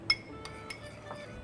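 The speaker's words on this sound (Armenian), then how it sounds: "Խառնում ենք սոուսը" A utensil stirring a sauce of oil and lemon juice in a dish, producing a few quiet, sparse metallic clinks against the container in a brief, faint moment.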